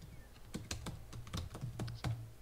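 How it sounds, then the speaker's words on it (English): Typing on a computer keyboard while working in Roblox Studio: close, quiet clusters of uneven key clicks and taps, about a dozen strokes in an irregular rhythm, with no voice. "Yeah, bad typing skills."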